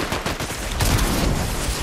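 Rapid bursts of gunfire from a Fortnite match crackle close and loud, a dense fusillade of overlapping shots lasting under two seconds.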